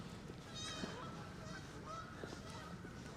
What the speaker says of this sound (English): I hear a geese a-goosing.